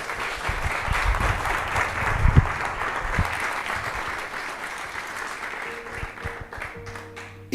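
Church congregation claps steadily in praise during a Spanish-language worship service, a moderate dense wash of hands with a few louder claps, fading toward the end as a voice starts speaking.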